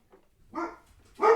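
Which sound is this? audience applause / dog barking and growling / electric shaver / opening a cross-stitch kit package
dog barking and growling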